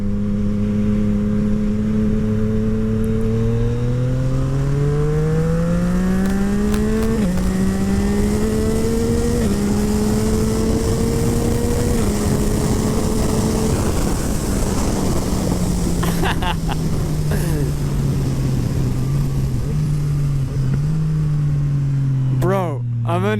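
A Yamaha MT-09 motorcycle with a full Akrapovic exhaust revs hard, its loud engine note climbing and falling through several throttle blips, with pops on the overrun and a rider talking over the noise.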